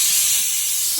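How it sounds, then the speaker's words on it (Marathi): A kitchen pressure cooker lets out a steady, loud hiss of escaping steam that runs through the full second without a break, while gulab jamun is being fried nearby. "कुकरची शिट्टी झाली."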